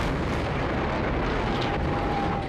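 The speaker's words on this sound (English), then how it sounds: "I never assumed it was going to be that big of an explosion." A dense, roaring blast rumbles continuously, loud and broadband, a controlled demolition explosion of a water tower with debris noise, heard from some distance.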